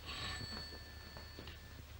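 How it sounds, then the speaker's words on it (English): An old telephone bell rings in a 1939 British comedy film, a bright metallic trill that fades and repeats faintly beneath a low hum. "Answer that phone."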